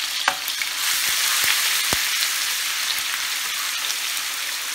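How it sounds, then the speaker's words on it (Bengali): Chopped garlic, ginger and dried chillies fry in hot oil for chicken Manchurian, a close crackling sizzle with sharp pops and a few stirring clicks, no voices. "এখন এর মধ্যে সেই রসুন কুচি, আদা কুচি আর শুকনো মরিচ দিয়ে দেব।"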